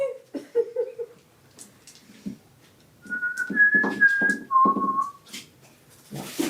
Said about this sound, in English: You know that I can't whistle very well right now.